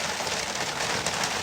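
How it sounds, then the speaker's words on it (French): Steady, dense rainfall in Valle del Cauca, Colombia, a continuous even hiss of drops hitting surfaces with no pauses. "J'espère que vous m'entendez bien parce qu'il pleut là dans l'Amazonie où je suis."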